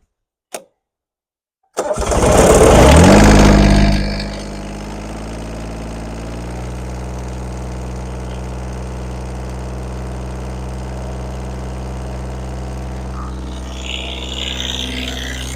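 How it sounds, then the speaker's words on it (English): A John Deere 332 garden tractor engine cranks and catches after a short click, roars loudly for about two seconds, then settles into a steady, even idle that runs on without any talking. "Now we're going to start it up and make sure nothing leaks."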